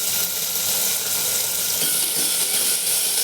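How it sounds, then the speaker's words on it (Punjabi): Long-sliced large onion frying in hot oil with a pinch of asafoetida, a steady close sizzle and hiss throughout with no talking. "ਪਿਆਜ਼ ਨੂੰ ਆਪਾਂ ਥੋੜਾ ਜਿਹਾ 2 ਮਿੰਟ ਭੁੰਨਾਂਗੇ"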